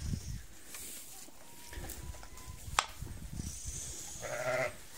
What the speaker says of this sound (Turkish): Arkadaşlar koyunlar giriyorlar.